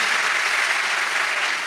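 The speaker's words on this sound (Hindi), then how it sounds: "इस पर तो जोरदार ताली बजाओ।" Listeners at a Hindi devotional discourse clap hard together, producing an even, continuous roar of clapping that holds steady and fills the space.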